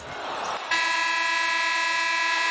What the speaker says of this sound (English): Good job by Lena, playing through the buzzer